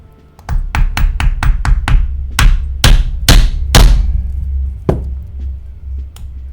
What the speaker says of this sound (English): We are going to be doing some hammering metal on metal, so it might get a little bit loud.